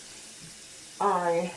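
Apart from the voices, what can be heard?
water running from sink tap, rinsing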